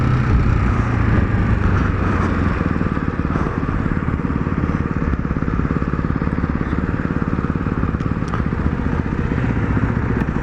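A 2024 Ducati Hypermotard 698 Mono single-cylinder motorcycle is ridden, its engine chugging loudly in a rapid, rough pulse, with wind rush mixed in.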